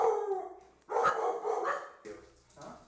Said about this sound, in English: my dogs are actually going to make a lot of room noise